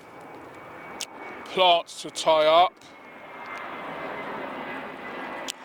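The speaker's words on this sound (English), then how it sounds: "Sorry about the aeroplane noise again." An aeroplane drones overhead as a steady, moderately loud hum that rises slightly, heard over a garden plot while someone speaks briefly in the middle.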